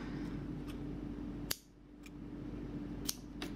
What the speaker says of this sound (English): I'm going to cut the white yarn.